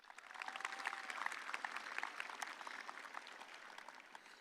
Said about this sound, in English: So give them a round of applause again.